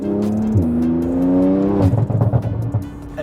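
A Porsche 991 Turbo S with 685 hp accelerates hard, its engine note climbing, then a downshift and renewed throttle followed by sputtering, crackling bursts, loud and close.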